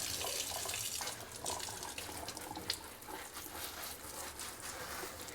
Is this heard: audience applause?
no